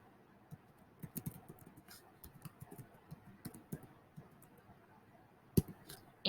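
Scattered, irregular keystrokes tapped on a computer keyboard at moderate distance, quiet and uneven with a few sharper clicks, no voices.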